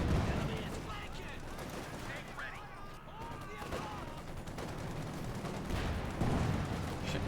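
In Company of Heroes 2, artillery bombards Jaeger infantry with a dense mix of booming blasts and rattling gunfire, a continuous chaotic barrage of varying loudness.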